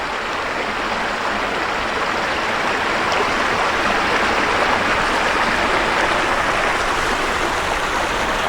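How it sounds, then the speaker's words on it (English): Continuous rushing of a flowing stream beside a forest trail at Speedwell Forge County Park, Lancaster, Pennsylvania, loud and close, a steady broadband wash of water with no voices. "You gotta love that sound of the water."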